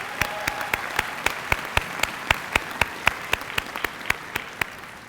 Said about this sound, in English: yeah, let's applaud that